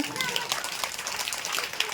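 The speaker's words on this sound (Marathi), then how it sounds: "टाळ्या वाजवा तिच्यासाठी एकदा" A brief burst of audience clapping after a girl sings at a Shivaji birth anniversary celebration, dense and moderately distant, lasting only a couple of seconds.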